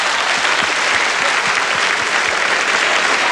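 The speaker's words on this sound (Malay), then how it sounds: "Tepukan pada Boboy eh" A studio audience claps for a guest named Boboy during a 1999 Aidil Fitri television show in Singapore, a dense, even burst of applause filling the whole stretch with no talk over it.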